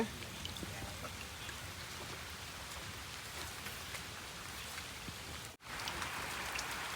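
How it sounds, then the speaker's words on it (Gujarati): Steady rain falls outdoors, a dense hiss of drops on surfaces that continues unbroken, with a brief dropout near the end. "આ જુઓ વરસાદ ચાલુ જ છે"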